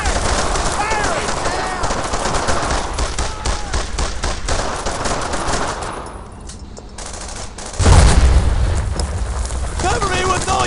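Dense, continuous gunfire from the World War II video game Brothers in Arms: Earned in Blood, with machine guns and rifles crackling loudly throughout, a short lull, then a heavy blast as firing resumes, under shouted soldier voices.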